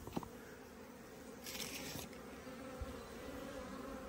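Honey bees buzzing around a feeder on a small five-frame nuc hive, a steady close insect drone throughout with a brief louder swell near the middle.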